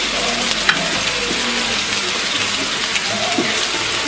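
Chorizo sausages fry slowly over low heat in a pan, giving a steady close sizzle with small pops and crackles throughout.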